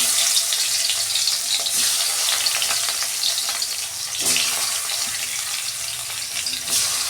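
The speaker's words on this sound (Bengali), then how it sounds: "তেল গরম হয়ে গেছে, মাছটা দিয়ে দিচ্ছি।" Magur catfish frying in hot oil for a thin fish curry, a loud, dense, continuous crackling sizzle with occasional sharper pops, close and alone.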